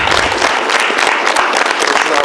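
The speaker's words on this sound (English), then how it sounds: "Please give them a round of applause." A seated audience claps in a steady, fairly loud round of applause that runs briefly with no pause.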